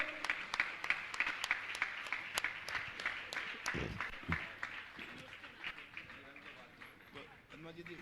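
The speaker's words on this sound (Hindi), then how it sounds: "तालियां तो बजाइए आप लोग।" An audience at a religious discourse gathering claps in a brisk, dense burst that thins out over several seconds, with some low murmuring underneath.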